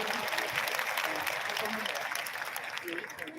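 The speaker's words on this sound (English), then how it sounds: "Let's give them a round of applause" Sustained applause from an audience, steady clapping that carries through the whole moment with a voice faintly over it.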